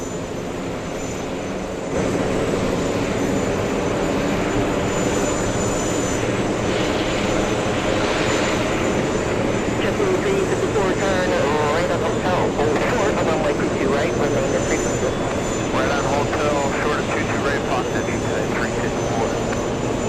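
An Airbus A380 airliner at JFK airport roars past close by, its jet engines a loud, sustained broadband rumble with shifting whine that swells and holds for most of the stretch, with voices talking underneath.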